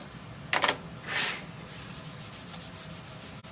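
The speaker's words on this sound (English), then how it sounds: "I'm going to get back to removing this excess wax" A cloth rubs excess wax off a surface. The soft, close rubbing swipes are quiet, with two brief louder strokes near the start, followed by a faint steady scraping.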